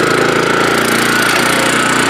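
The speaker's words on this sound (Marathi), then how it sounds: "आता आपण हा क्लच हे केला मशीन स्टार्ट झालं" A petrol power weeder engine runs close and loud with a steady, fast, rattling drone that holds an even pitch throughout, with no voices.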